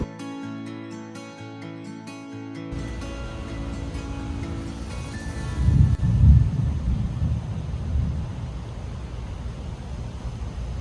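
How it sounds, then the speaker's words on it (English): Deep thunder rumbling outdoors as a summer thunderstorm approaches in the mountains, a low rolling swell that builds and peaks midway before fading into a sustained murmur, following a few seconds of soft melodic tones at the start. "it's thundering right now like crazy"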